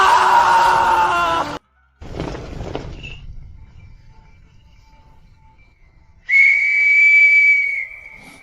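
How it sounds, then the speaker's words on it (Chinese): A whistle is blown in a historical drama, giving a sustained shrill tone that is loud and close, heard after quieter rustling and low background sound. "哨子你留着，以后不用吹"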